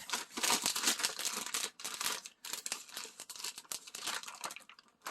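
Close crinkling and tearing of plastic packaging, a steady run of crackles and rips with brief pauses, fairly quiet.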